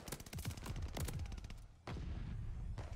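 An MG42 light machine gun in the video game Call of Duty Vanguard fires rapid automatic bursts, a fast rattling stream of sharp shots with a brief pause before firing resumes.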